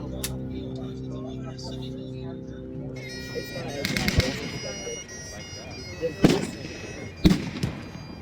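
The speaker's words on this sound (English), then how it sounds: "The machine gun that's firing on the Allied side, the left side of the French." Machine gun fire at a World War One battle reenactment, several sharp bursts of shots at a distance over a sustained background tone, with someone talking close by throughout.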